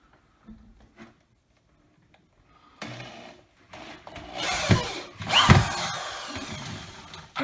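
A power drill drives screws through the back bracket of a ULTI-Mate wall cabinet, giving close whirring bursts that grow louder and longer toward the end, with a few light knocks and bumps before it, no talk.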